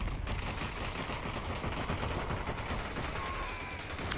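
Sustained rapid AK rifle gunfire in the VR battle royale game Pop: One, a dense continuous barrage of shots over a constant noisy din with no talk.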